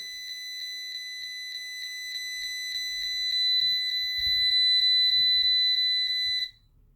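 An MRU 400GD gas leak detector's shrill electronic alarm, set to trigger at 500 ppm, beeps in a fast, steady pulse, loud and close, with faint handling noise underneath before it suddenly stops.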